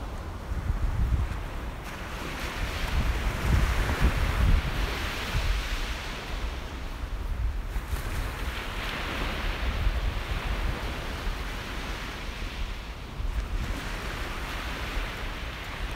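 Waves wash steadily onto an English beach under gusting wind, a continuous rushing roar that swells and eases without any break.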